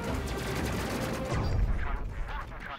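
Laser guns firing in the space game Space Crew: a dense burst of rapid zapping shots, loud and close, giving way to a deeper rumbling blast near the end, with no talking.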